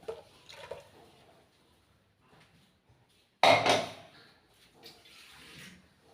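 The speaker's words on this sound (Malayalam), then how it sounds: "ഈ ജാറൊന്ന് കഴുകിയിട്ട് രസം കൂടെ വെള്ളം ഒഴിക്കുക" A short burst of splashing water, loud and close, as a mixer jar is rinsed and the water poured into a fish curry pan, with faint kitchen clatter and quiet sounds before and after.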